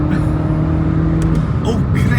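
A Suzuki Swift Sport accelerating hard from inside the cabin, its engine note climbing in pitch before a gear change, loud and close.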